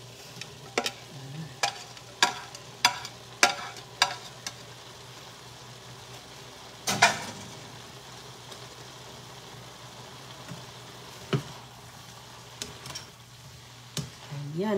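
Vegetables for pancit guisado stir-fried in a pan, a low steady sizzle broken by sharp clacks of a utensil against the pan in an irregular rhythm, with a louder scrape near the middle and no talk.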